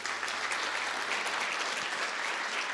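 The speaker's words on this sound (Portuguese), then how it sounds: "Vamos aplaudir a Jesus." Applause from a church congregation after a sermon, a steady dense wash of clapping held at an even level throughout, moderately distant and without voices on top.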